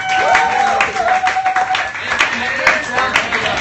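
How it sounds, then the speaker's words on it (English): Audience at a comedy fight club show clapping for a comic, a mix of claps and cheering under voices, with a few sharp, prominent claps toward the end. "Clap it right now for Gary Monk,"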